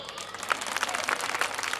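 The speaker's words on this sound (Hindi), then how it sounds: "ताली बजाओ।" Brief scattered clapping from a crowd at an outdoor Hindi poetry recitation gathering, uneven hand claps mixed with murmuring voices and background noise.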